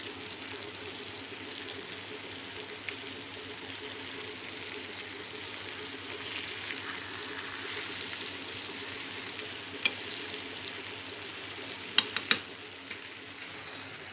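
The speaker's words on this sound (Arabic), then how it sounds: "هنايا اللحم والبصله درتهم كيتشحروا" Meat and onion fry in a pan with salt, turmeric, ginger and cinnamon for a tagine, giving a steady, close hiss of sizzling oil with a few faint clicks and taps near the end.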